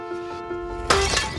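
Glass shatters suddenly with a loud, close burst of breaking and scattering shards, following a sustained tonal hum, in a film trailer scene.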